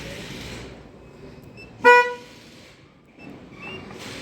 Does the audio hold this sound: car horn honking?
yes